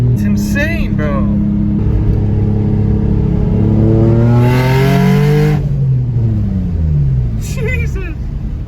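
A turbocharged Nissan 350Z with a custom exhaust accelerates hard, its loud engine note climbing through the revs in long sweeps, then dropping at a shift and building again, with excited voices over it.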